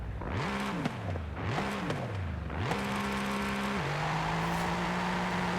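A custom Mercedes-AMG GT3 racing car engine in Forza Horizon 5 revs up and down in several rising and falling sweeps, then settles into a steady high drone, loud and continuous with no talk.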